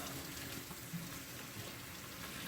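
Soapy hands being rinsed under a running tap during handwashing, a faint, continuous splash and gurgle of water with no talking.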